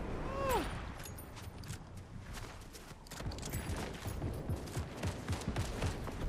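Rapid video game gunfire rattles out in dense bursts close by, shots crackling almost continuously with small mechanical clicks mixed in and a faint voice now and then underneath.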